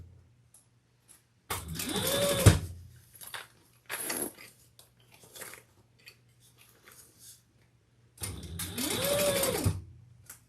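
A sewing machine runs a basting stitch along a seam on a sling pack, in two clear bursts of several seconds each. Brief mechanical clicks and handling noises fall in the quiet gap between the runs.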